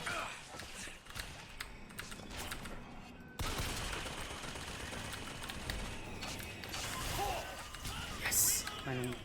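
Turret gunfire in the video game BioShock Infinite: dense, continuous bursts of rapid shots and mechanical clatter, loud and sustained, with someone talking over the game sounds.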